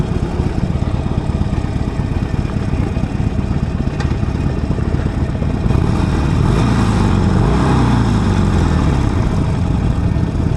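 A Harley-Davidson Sportster 48 "Forty Eight" motorcycle engine revving up to about 3,000 rpm, a loud close continuous rumble that swells and climbs in pitch partway through, with no talking.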